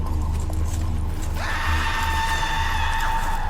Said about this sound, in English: That was definitely a woman screaming.